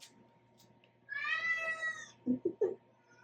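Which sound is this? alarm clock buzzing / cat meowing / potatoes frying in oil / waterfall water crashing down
cat meowing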